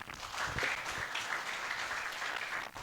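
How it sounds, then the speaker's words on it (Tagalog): A church congregation at a Sunday worship service applauds together, a dense, steady wash of clapping hands lasting a few seconds at moderate volume. "So, palakpak po natin si Lord."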